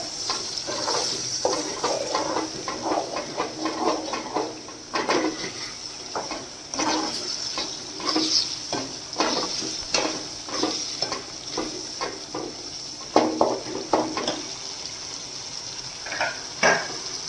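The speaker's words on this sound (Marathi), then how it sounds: "आता हा मसाला आता 1 मिनिट परतून घेतला आहे मी पूर्ण चांगला" A ground spice masala paste sizzles in a pan for Saoji-style mutton trotters (khur), with repeated scraping stirs of a spatula against the pan over a continuous frying hiss.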